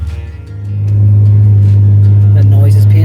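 A van engine idles with a low throb, then builds into a loud, steady droning hum as it accelerates, staying strong and constant to the end, with faint talk in the background.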